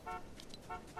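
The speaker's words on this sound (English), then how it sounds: "don't you fucking honk at me" Car horn in Fortnite, two short faint honks about half a second apart, distant and low in level.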